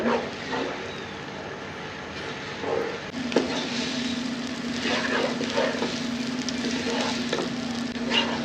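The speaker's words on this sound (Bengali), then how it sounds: "ভেজানো চাউলটা ধুয়ে রেখেছিলাম, এবার আমি দিয়ে দিই। একটু ভেজে নেব।" Washed, soaked rice fries in a pot for Bangladeshi beef tehari, giving a steady close sizzle with occasional stirring scrapes. A low hum runs under it through most of the clip, and nobody speaks.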